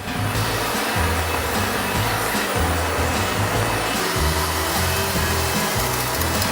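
An iRobot Roomba Combo 10 Max robot vacuum runs steadily up close, a constant loud motor whir with rhythmic rumbling as it works along walls, with no talking.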